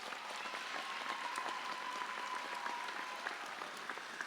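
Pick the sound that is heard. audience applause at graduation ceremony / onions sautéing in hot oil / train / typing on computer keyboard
audience applause at graduation ceremony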